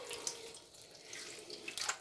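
Water pours out of an aquarium during cleaning, a quiet running splash like a tap into a sink, with brief brighter spatters.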